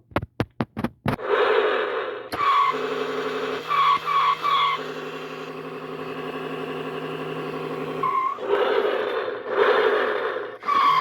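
A 2007 TSI Road Rippers toy custom '05 Cadillac Escalade EXT with its Street Poundin' Sound system: a few sharp clicks, then loud electronic tire-squeal and engine-rev effects with sustained tones, playing alone in close, steady bursts.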